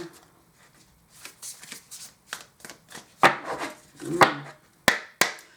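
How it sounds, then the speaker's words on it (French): Large oracle cards being shuffled by hand, soft irregular riffles and slaps that grow louder and sharper toward the end, close up with no talking. "les cartes sont un peu grandes et un peu galères à battre"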